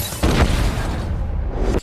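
A weapon explodes on a bus during a film battle scene in Benghazi, a loud broadband boom that swells suddenly and roars steadily for over a second before cutting off.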